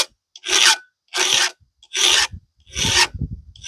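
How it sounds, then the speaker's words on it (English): Hand file swiping across the depth-gauge rakers of a heavily damaged Pico chainsaw chain, four or five distinct rasping strokes in a steady rhythm with brief pauses and small clicks between, close and clear with no talking. "I'm going to go through and put 5 swipes on every set of rakers working away from the tooth so I don't hit the tooth."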